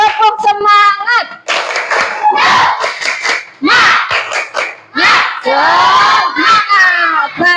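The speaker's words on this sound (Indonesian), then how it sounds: "Tepuk semangat." A primary school class claps and shouts a rhythmic spirit chant together, loud and close, with bursts of clapping broken by short pauses and children's voices chanting in unison.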